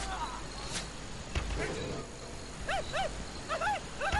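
Dog barking and yelping in the Western shooter game Call of Juarez: Bound in Blood, several short yips in quick bursts toward the end, mixed with game ambience and a voice talking.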